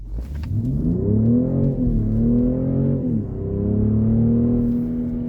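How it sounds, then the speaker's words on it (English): A 2024 BMW X5 50e plug-in hybrid with M package sport exhaust revs loudly and climbs in pitch as it accelerates, easing briefly before rising again with a deep, throaty exhaust note. "you can definitely hear it because it's a sport exhaust with the M package"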